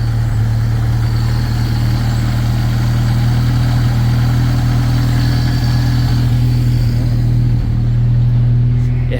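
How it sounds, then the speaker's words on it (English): A Ford Ranger with a misfire idles nearby, giving a loud, steady low rumble that holds unbroken for several seconds with little else over it. "It has a little bit of a misfire, so I'm probably gonna do plugs again. Yeah, there's a misfire in it."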